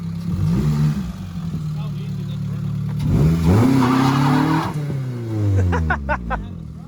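A 1999 Mitsubishi Eclipse GS Spyder on winter tires squeals and burns rubber, with loud sustained tire screech and engine revving rising and falling in pitch over several seconds, close by, while someone talks over it.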